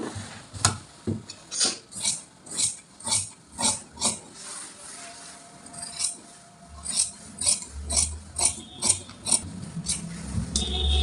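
Scissors cut through suit fabric and lining material in a steady run of crisp snips, roughly two per second. The snips are close and clear, followed by softer, irregular shuffling and clipping.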